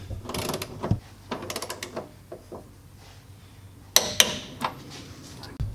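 A torque wrench tightening a 19 mm bolt on a Hyundai Genesis Coupe subframe, giving a series of quiet ratcheting clicks in short bursts, with two sharper clacks near the end.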